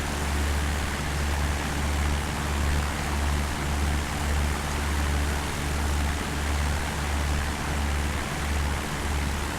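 Steady aircraft engine drone during a flight over South Wales near a castle, a loud, constant broadband roar with a low throbbing hum and no talk.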